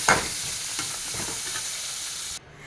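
Coconut, fennel and shallots roast in a hot pan with a loud, even sizzle and a few soft stirring scrapes, and the sound cuts off abruptly just before the end.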